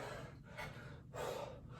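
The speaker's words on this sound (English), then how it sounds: "Breathing rate elevated." Heavy, rapid breathing and gasping from someone during an intense workout of squats and twists, coming in close, loud bursts with brief pauses between breaths.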